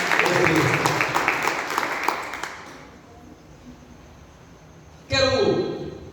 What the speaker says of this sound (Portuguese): Você pode aplaudir o nosso Deus?